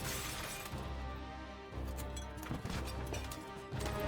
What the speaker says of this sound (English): I raised my shield and rushed straight through the window, crashing through in a shower of multicolored glass.